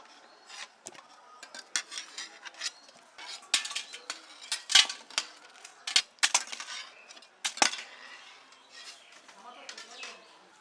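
Soft, fully boiled potatoes, already splitting apart, are lifted out of a cooking pot with a utensil, making irregular light clinks and scrapes of metal on metal at moderate distance.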